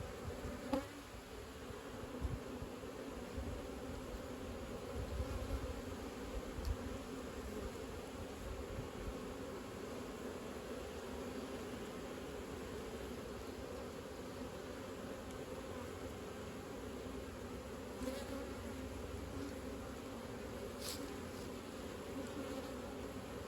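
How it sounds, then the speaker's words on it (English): Honeybees from two backyard hive colonies buzz steadily in a continuous drone, close and moderately quiet, with a few brief louder passes of individual bees flying near. "the bees in my 2 colonies that I just checked"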